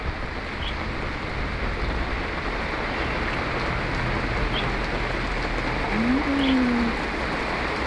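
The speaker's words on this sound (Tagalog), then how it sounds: "Ano lang ito, ulan." Steady rain falls continuously in Lebanon, a dense even hiss of drops on surfaces and potted bok choy plants, with a faint low call and occasional light ticks.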